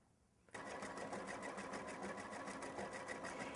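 A Bernina sewing machine sews a decorative stitch on fabric backed with a cutaway stabilizer. It starts abruptly after a short quiet moment, then runs at a steady moderate speed with a rapid, even mechanical chatter, close and loud.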